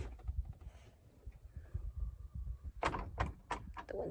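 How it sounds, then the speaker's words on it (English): Wind pushes a door, giving a quiet low rumble of gusts and then a quick cluster of several knocks and rattles near the end, with no voices. "the wind's blowing the door to me"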